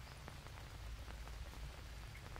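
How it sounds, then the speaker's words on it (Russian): Rain dripping in the jungle survival game Green Hell, a soft continuous patter of drops on surfaces with scattered individual drips, quiet and steady with no talking. "тут, короче, дождь капает прям оттуда"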